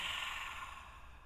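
A single long breath let out through the mouth during an outdoor yoga session, a soft airy whoosh that fades steadily over about a second, close and quiet.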